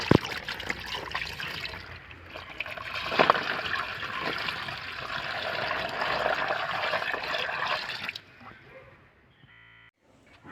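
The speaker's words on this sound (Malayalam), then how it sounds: "ഇനി ടാങ്കിൽ വെള്ളം നിറക്കണം" Water splashes and gurgles steadily as it is poured into a fish tank, a continuous rushing flow that stops abruptly near the end.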